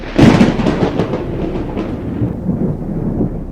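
Thunder from a lightning strike, a loud sudden crack that rolls into a long, low rumble fading over a few seconds.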